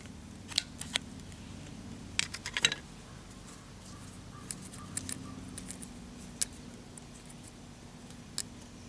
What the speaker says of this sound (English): get a pair of scissors under that. And cut that to free those strands